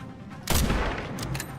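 Headshot gunshot in the video game Resident Evil 9, a sharp loud blast followed by a brief reverberant tail and a couple of fainter follow-up cracks.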